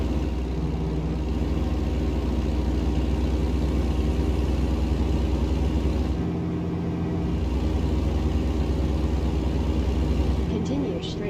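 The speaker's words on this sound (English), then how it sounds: "Decent enough engine, big fuel tank, and a roaring sound as well." A modded truck in American Truck Simulator drones with a constant, deep engine roar that holds steady throughout, close and loud, with only slight dips in tone.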